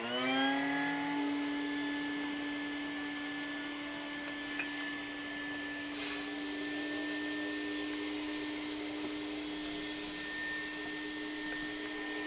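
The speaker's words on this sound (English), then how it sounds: "I'm going to do that by turning on the vacuum system to pull out any gases." A vacuum system pulling gases out of a wood gas generator used with a swirl burner, a steady loud whining drone with a strong sustained tone, continuous and unchanging for over twelve seconds with no voices.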